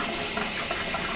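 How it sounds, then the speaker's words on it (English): Hot water runs from a tap into a shaving brush, a steady, close gushing splash that fills the whole moment with no voices. "I'm going to run some hot water in it"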